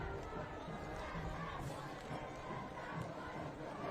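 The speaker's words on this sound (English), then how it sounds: "Got some excitement from the crowd. We still got a big crowd here" The crowd at a high school varsity football game, Pentucket Regional (PVMHS) against Bishop Feehan, keeps up a steady distant roar of cheering and shouting throughout, fairly faint and without a clear peak.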